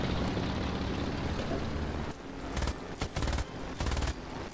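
Bf 109 machine guns firing in War Thunder, rapid bursts of gunfire over a loud droning propeller engine, with several short separate volleys toward the end.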